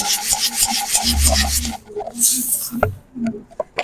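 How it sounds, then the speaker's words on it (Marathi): A mesh sieve is shaken to sift ingredients, giving a rapid rhythmic rasping swish close by, then scattered scraping and tapping as the sifting slows. "चाळून घ्यायची."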